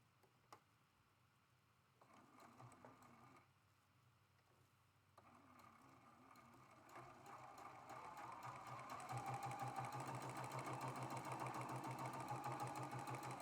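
Sewing machine piecing a quilt block with a quarter-inch seam, starting in short stitching bursts then settling into a steady fast mechanical whir that grows louder toward the end, close and without talking.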